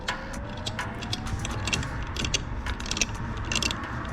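A valve spring compressor is turned slowly by hand on a Honda B20 VTEC engine from an AWD CR-V, giving soft mechanical clicks and ratcheting ticks close up, with no talking.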